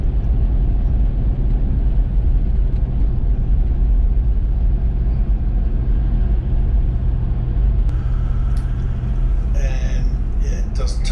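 A 4WD cruising at about 60 km/h on a bitumen road with slightly underinflated tyres, giving a steady loud rumble of engine and tyre roar throughout, with a brief voice near the end.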